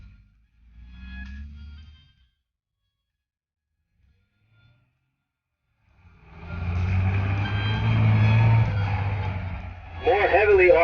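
A Daimler Ferret Mark I scout car's engine comes alive after a quiet spell at a Desert Storm tank show. It builds into a loud, steady rumble that grows nearer, with a brief voice heard early on.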